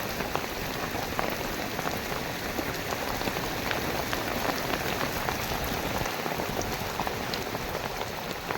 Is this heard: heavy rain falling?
yes